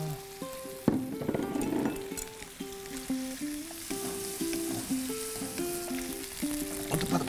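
Scallions stir-fry in rendered pork fat in a pan for a simple Korean home-style side dish, a continuous bright sizzle with occasional stirring scrapes, while soft background music plays underneath.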